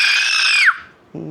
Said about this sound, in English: That's how loud your scream is